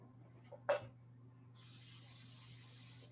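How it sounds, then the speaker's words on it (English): Cooking spray is sprayed into a bowl ready for dough, a quiet steady hiss lasting about a second and a half after a brief knock, close and faint in a quiet kitchen. "I have some cooking spray."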